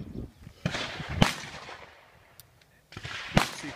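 An Uberti .357 Magnum pistol fires outdoors: two loud, sharp reports with echoing tails a couple of seconds apart, preceded by a fainter bang.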